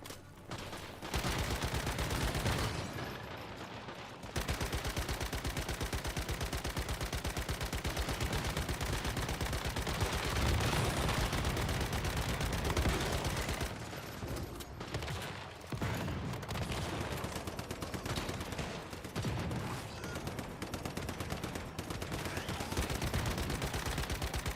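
Automatic gunfire in the survival shooter Once Human, a long, steady machine-gun stream of rapid shots with brief pauses near the start and in the middle, heard alone at low overall volume.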